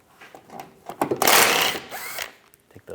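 A 10mm socket tool backs out screws beneath the headlight of a 1997-2001 Honda CR-V, a brief whirring spin of about a second between soft clicks and handling noises nearby.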